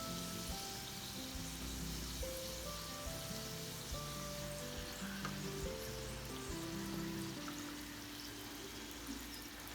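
Beef momos and sweet momos deep-frying in hot oil, a steady close sizzle and bubbling that runs without a break, with small crackles and pops scattered throughout.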